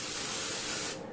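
Cooking spray hisses over the top of bread dough in a bowl in a single close, steady burst of about a second, then stops abruptly, with no talk.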